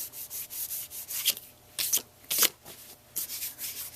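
A sticky sheet being rubbed by hand during a craft demo, giving soft, close scuffing and rasping strokes in an uneven rhythm, some louder swipes standing out.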